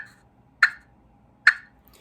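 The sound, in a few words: turkey call imitating a purr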